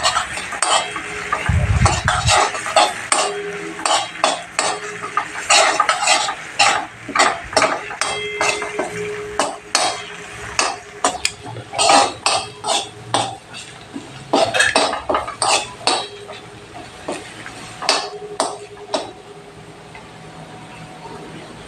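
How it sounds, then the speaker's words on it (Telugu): Three dried red chillies go into hot oil with curry leaves and ginger-garlic paste in a pan. A faint sizzle runs under a steady series of sharp metal spoon clinks and scrapes against the pan as the mixture is stirred, with no talking. "ఎండుమిరపకాయలు వేస్తున్నానండి."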